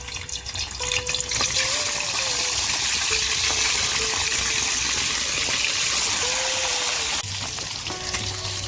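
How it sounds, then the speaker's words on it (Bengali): Fish frying in a wok of hot oil give a steady, loud sizzle and crackle that fills the whole stretch, with faint background sounds but no talk. "এবার একটা কড়াই তেল গরম করে একে একে মাছগুলো ভেজে নেব।"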